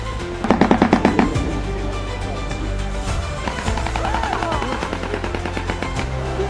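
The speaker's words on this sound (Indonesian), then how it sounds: "burung shoebill stork, burung yang suaranya menyerupai suara tembakan" A shoebill stork gives a rapid, dry rattling burst that resembles machine-gun fire. It is loud and close, then drops to quieter, scattered clatters over steady background noise.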